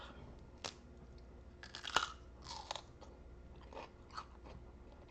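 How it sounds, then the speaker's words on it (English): Crisp crunches of someone biting and chewing a firm vegetable stored for three weeks, a few sharp bites followed by softer chewing, close and quiet. "I'm sure you can hear the crunch because this microphone picks up everything"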